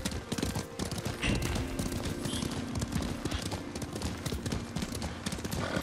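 Galloping horse hooves from Ghost of Tsushima, a steady rapid clip-clop ride under dense in-game ambience and battle noise, near and continuous throughout.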